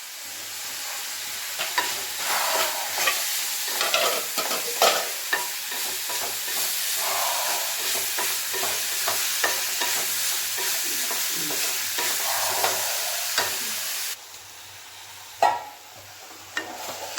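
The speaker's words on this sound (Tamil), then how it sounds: "பாவக்காய் நல்லா வதங்கிருச்சு." Bitter gourd sautés in a pan, stirred with steady scraping strokes against a continuous close sizzle, with no voices.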